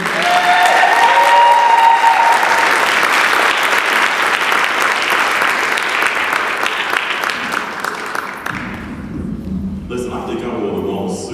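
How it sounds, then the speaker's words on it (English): Loud, sustained audience applause with cheering fills a graduation ceremony hall for several seconds before thinning out, and a voice then speaks over the fading claps. "Can we give a round of applause again for the graduates here today?"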